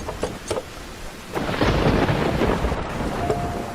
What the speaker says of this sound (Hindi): लेकिन तभी आसमान में बिजली कड़कने लगी